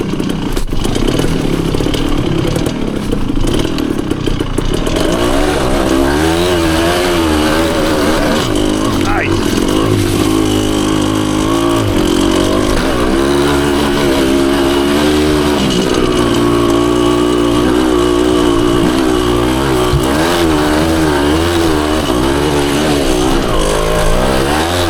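A 1974 Honda MT250 two-stroke enduro motorcycle climbs a leaf-covered, root-strewn wooded hill, its engine buzzing and revving loudly and close, with rattles and clatter over rough ground.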